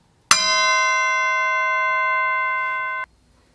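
A single bright bell ding struck once, ringing clear and loud with a long sustained shimmering tone that holds steady for nearly three seconds before cutting off, with nothing else around it.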